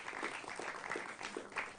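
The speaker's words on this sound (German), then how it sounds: "Applaus" A studio audience claps for a TV crew being introduced on a 1994 youth television show, a moderate, steady patter of applause from a small crowd, heard slightly distant.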